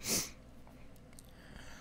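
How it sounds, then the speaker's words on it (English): A single sharp sniff or sneeze-like burst right at the start, close and brief, followed by quiet breathing-level room noise. "I started having the sniffles here."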